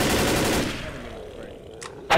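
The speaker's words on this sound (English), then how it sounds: "I shot the boomer through the wall." Rapid gunfire from the Left 4 Dead video game, dense and loud at first, then thinning into a quieter rattle, with a few sharp shots near the end.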